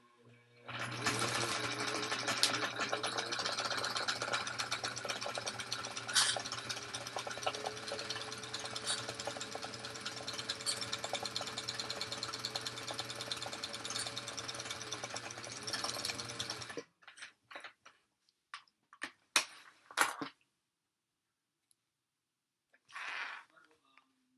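A sewing machine runs a construction stitch along a tote bag, a fast, even whir that goes on for about seventeen seconds and then stops, followed by a few short clicks and handling noises.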